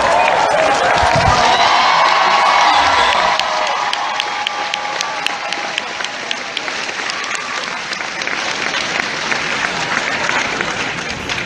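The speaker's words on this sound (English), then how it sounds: "Everyone took a moment to give him a big applause." Audience applause and cheering at a San Diego Comic-Con Steven Universe panel in 2016: a dense, loud wash of clapping with whoops, steady for the full stretch and tapering slightly after the first few seconds.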